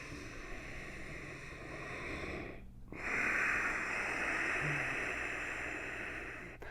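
Slow, deep breathing during a core activation exercise: a long, steady, close airy inhale, a brief pause, then an even longer exhale, loud and hissing, with no speech.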